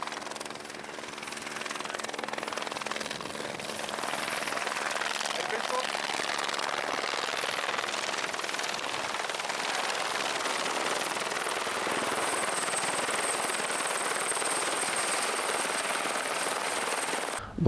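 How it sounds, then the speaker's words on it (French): A rescue helicopter flies near a mountain hut on Mont Blanc, its steady rotor and engine roar filling the whole stretch at an even, loud level. "Hélico de secours qui vient chercher des mecs"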